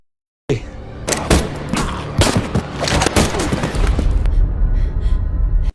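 Gunfire from a film scene, a burst of sharp loud shots in quick succession, dense and close, followed by a sustained low rumble and ringing echo.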